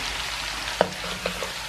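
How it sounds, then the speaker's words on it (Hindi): Potatoes fry in a pan over ginger garlic paste, giving a soft, steady sizzle with a few faint stirring clicks close by and no speech. "आलू को 4-5 मिनट फ्राई करके फिर फली डाल दें"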